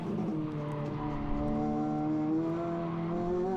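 A Renault Clio RS 200 is pushed to the edge of grip on a circuit lap, its engine holding a steady, rising tone with clear harmonics, heard from inside the car, fairly faint and continuous.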